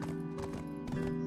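Horse hooves clip-clop steadily in Black Desert as a tier 6 horse travels, with sustained game music tones running underneath throughout.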